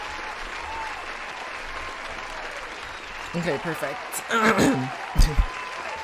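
A clapping sound effect comes in on a casual livestream, with a few bursts of claps following a short spoken remark, over faint background noise.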